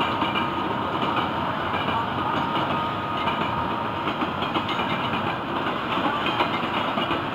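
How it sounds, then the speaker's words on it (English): A Florida East Coast freight train led by two locomotives rolls past on an evening, a loud, steady broadband rumble and rattle of wagons filling the whole stretch without letting up. "Just a great looking train."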